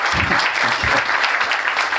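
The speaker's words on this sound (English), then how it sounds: "Second round of applause." An audience at an ancestral health festival applauds after a talk, with loud, close, continuous clapping that holds for the full two seconds.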